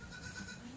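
Kathiawadi goats loaded on a delivery truck bleat under a steady murmur of background noise, a brief faint call within a continuous low din rather than distinct separate cries.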